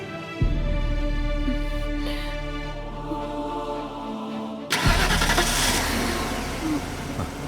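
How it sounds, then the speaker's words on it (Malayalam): A car engine rumbles at idle in a dramatic scene, then abruptly roars louder partway through as it starts up and revs, sounding close and steady. "വണ്ടി എടുക്ക് രമേട്ട, വണ്ടി എടുക്ക്."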